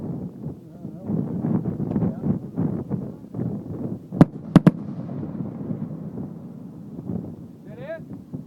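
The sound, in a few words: daylight fireworks shells exploding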